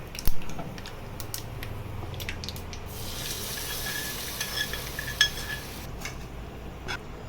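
Sizzling hot tempering poured into rava idli batter, a soft crackling hiss that swells midway, with a few clinks of a utensil against the bowl.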